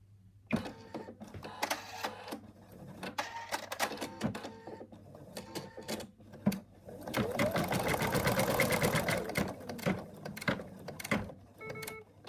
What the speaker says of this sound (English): it's just finished sewing the mouth, so it's gonna do the outline where the trunk is gonna be.